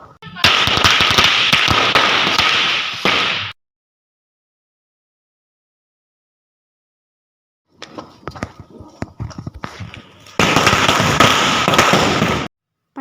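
Diwali firecrackers burst in two long, loud runs of rapid crackling and popping, separated by a silent gap. Scattered smaller pops come just before the second burst.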